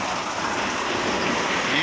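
Steady rain falls and patters on surfaces close by, a dense, even hiss with no pauses throughout.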